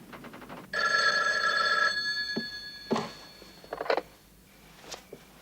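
A telephone bell rings once in a bright, buzzing burst lasting about a second, followed by a few clunks and handling noises as it is picked up in a quiet room.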